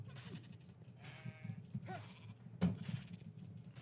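A sheep in a video game bleats several times in short, quavering calls, quiet and close, separated by brief pauses and a few soft thumps.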